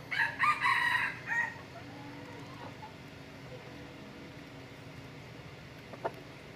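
A rooster crows loudly in the first second and a half, a harmonic call close by, then fades into a low outdoor background with a faint isolated sound near the end.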